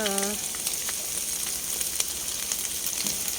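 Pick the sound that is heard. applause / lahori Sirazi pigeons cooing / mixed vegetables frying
mixed vegetables frying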